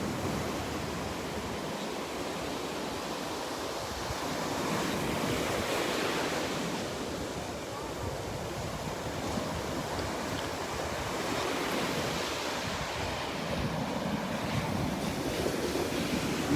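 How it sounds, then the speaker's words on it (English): Gulf of Mexico surf at Delnor-Wiggins beach rushes and breaks on the shore in a steady wash of noise, swelling and easing gently over time, with some wind rumble on the microphone and no voices. "last listen and close-up look at the waves over here"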